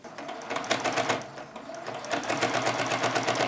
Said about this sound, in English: you're only going to want to sew down about an inch or so just to get this binding on